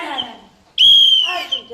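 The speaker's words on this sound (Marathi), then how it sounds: "शिट्टी घेऊन वाजवत आहेत" A whistle blown to scare monkeys, one shrill, sustained blast close by, preceded by a voice and trailing into more talk.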